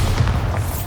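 A Bombarda blasting spell goes off in a tomb in the Hogwarts Legacy video game, a muffled low boom with a dense rumbling body that sustains loudly through the short moment.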